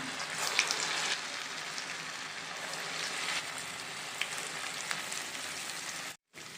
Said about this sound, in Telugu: వేగినాయండి ఇంకో పక్కకి టర్న్ చేసుకుందాం ఇవి వేగిపోయినాయండి